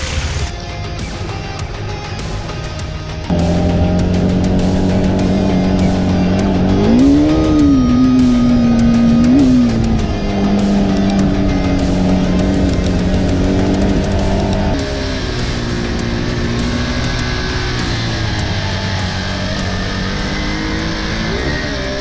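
A KTM 390 Adventure motorcycle rides along a green lane, its engine a steady, loud onboard drone with a rising and falling rev swell partway through and a shift in tone near the end.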